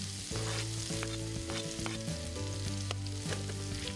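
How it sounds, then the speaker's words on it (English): Garlic frying in a pan of olive oil for a Spanish rabbit stew, a steady loud close sizzle that keeps on without a break, with no voices. "After a while, add the garlic and fry a little longer."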